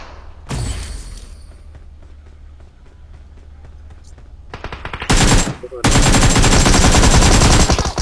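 Gunfire in a battle royale shooter game: a sharp shot early on, scattered faint shots, then loud rapid automatic bursts close up toward the end.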